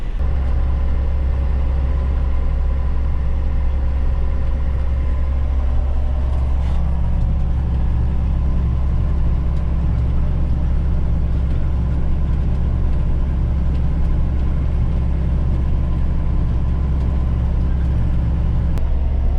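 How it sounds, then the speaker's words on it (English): A tractor engine runs steadily in a field while planting soybeans, producing a loud, constant low drone throughout with a slight shift in load partway through. "This tractor's working pretty good planting."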